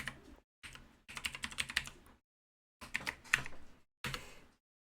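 A password is typed on a computer keyboard in short bursts of quick, close keystrokes, with brief pauses between the groups.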